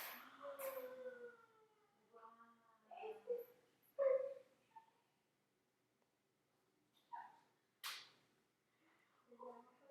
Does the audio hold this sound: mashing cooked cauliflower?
no